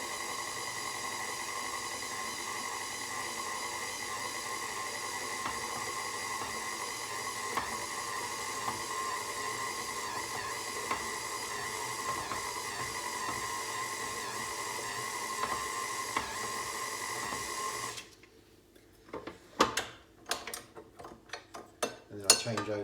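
A stand mixer runs at low speed mixing sourdough pizza dough, a steady mechanical whir with a faint hum that holds for about eighteen seconds, then cuts off into a few sharp clanks and knocks of the bowl and attachment.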